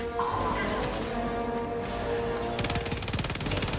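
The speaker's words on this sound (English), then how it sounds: "This shotgun runs out of ammo so fast." Rapid shotgun blasts in the video game Helldivers 2, loud and dense, firing in a fast irregular burst that quickens toward the end, with a busy game mix behind them.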